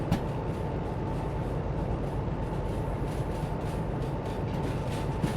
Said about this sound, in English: The trains always were loud.